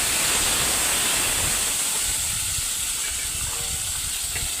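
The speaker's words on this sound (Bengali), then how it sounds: "এই তেলে পটলগুলো ভালো করে ভেজে নেব।" Pointed gourd frying in hot oil in a home kitchen, a steady broadband hiss and sizzle that holds throughout at moderate loudness with no talk.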